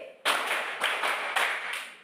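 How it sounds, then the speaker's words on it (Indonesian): Children in an Indonesian classroom clap together in a counted pattern, a few sharp unison bursts spaced about half a second apart, moderately close and fairly quiet, with no talking. "Ibu minta kita tepuk 1 sampai 5"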